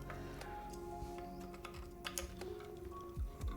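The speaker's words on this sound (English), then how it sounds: "sometimes the keyboard does sound a bit thinner" Typing on a Tofu65 2.0 mechanical keyboard with plate foam, a steady run of close, clicky-thocky keystrokes with occasional louder stabilizer-like thumps near the end.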